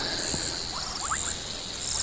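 Several bubbling kassina frogs give short bubbling trills over a steady hiss of insects at sunset, moderately distant, with no voices.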